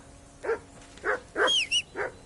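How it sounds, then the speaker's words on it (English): Dog in the video game Kingdom Come Deliverance II barking in a rhythm of five sharp, close barks and yips, with a brief high whine between them, and no voices during the barking. "Call off that damn dog before he wolfs down the last of our mates."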